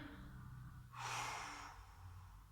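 A single audible breath drawn in through the nose during a psoas stretch, close and fairly soft, lasting under a second over a faint background hum.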